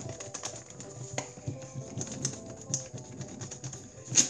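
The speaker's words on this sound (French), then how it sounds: "Donc maintenant, on écrit au crayon à papier." Pencil scratching across paper in quick, irregular strokes, a close, dry scraping texture with small taps, steady and fairly quiet throughout.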